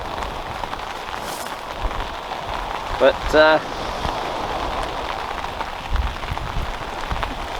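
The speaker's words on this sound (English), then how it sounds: "Wow, this rain's cold." Cold rain falls steadily outdoors at night while someone is out fishing, a constant close patter on surfaces with a brief word spoken and a few small handling clicks partway through.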